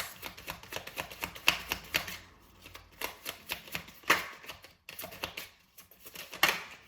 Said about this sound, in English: I'm going to pull you out an Angel card of Abundance.